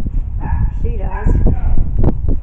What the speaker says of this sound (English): Ellie May's bark does sound like it.